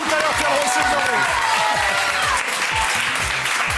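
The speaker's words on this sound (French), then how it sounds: "on applaudit Nico" Sustained audience applause on a French TV talent show, dense and loud throughout, with crowd clapping filling the whole stretch and a few voices mixed in.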